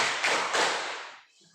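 A classroom of students clapping together in a call-and-response clap rhythm, a few dense bursts of hand claps merging into one loud, close wash of sound before cutting off.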